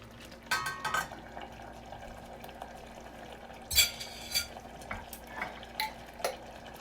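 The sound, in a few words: stirring garlic in a pan for lasagna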